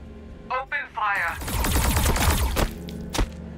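Weapon fire in the strategy game Warhammer 40K: Battlesector, a fast clatter of shots and thumps under game voice lines.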